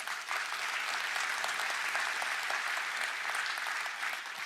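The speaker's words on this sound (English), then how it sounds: "So please, a round of applause." Steady applause from the audience at an Intel keynote for partners and customers, a dense, even wash of clapping that holds throughout without speech.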